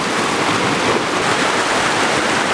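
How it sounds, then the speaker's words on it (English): A mountain creek rushes steadily, a dense, even wash of flowing water that stays constant throughout with nothing else heard. "There's the creek behind the tree."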